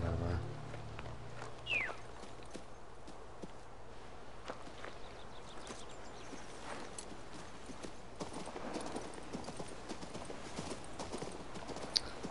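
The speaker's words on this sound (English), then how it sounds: "Riding my horse, Anington." Horse hooves clip-clop at a steady walking rhythm in the video game King's Bounty II, continuous and moderately close, with faint rustling and brief voice sounds at the start.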